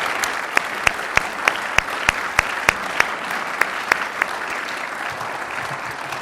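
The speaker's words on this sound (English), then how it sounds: "Please give them a round of applause." An audience at a Jewish Federation of Greater Portland annual meeting applauds, a steady wash of clapping punctuated by sharp, regularly spaced louder claps close to the microphone.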